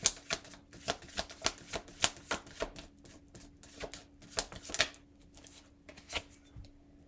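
Tarot cards are shuffled close by in soft, repeated riffling flicks, a steady patter of brief papery snaps that fades slightly toward the end over a faint background hum.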